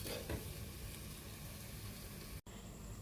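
Beetroot pickle cooking in a covered pan: a steady, close, even sizzle and crackle of frying, moderately quiet, with a brief dropout near the end and no talking.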